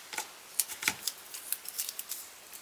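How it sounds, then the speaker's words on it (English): Scissors snip through strips of foam tape for paper crafting, producing a series of short, crisp, close cuts at an uneven pace with no talk. "just measure out the strips and cut it out"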